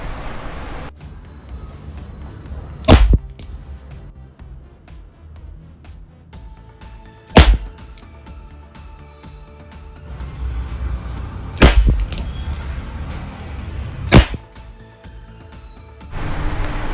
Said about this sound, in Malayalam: ഫയർ മോഡിലോട്ടായി നമുക്കിനി ഒന്ന് ഇത് ഷൂട്ട് ചെയ്ത് നോക്കാം